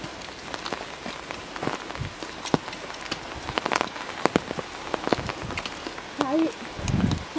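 Rain falls steadily on a surface outdoors during a walk near the Beatushöhlen caves in Switzerland, a continuous patter with scattered louder drops, while people talk briefly over it.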